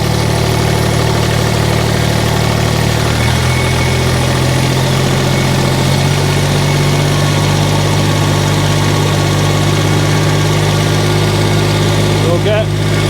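A 3-cylinder indirect injection diesel engine runs close and loud, a steady low rumbling idle that rises in pitch as it is revved, with a voice speaking over it.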